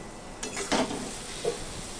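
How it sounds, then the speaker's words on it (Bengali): Ash gourd (chal kumro) curry being stirred in a pan over a low flame, with two brief scraping strokes over a soft steady sizzle, close by. "দেখুন আরও একটু নাড়াচাড়া দিয়ে দিলাম আমি সুন্দর করে"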